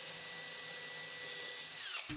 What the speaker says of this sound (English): I could then drill a series of holes holding the drill bit roughly at the angle I wanted